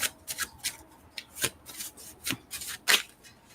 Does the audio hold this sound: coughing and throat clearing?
no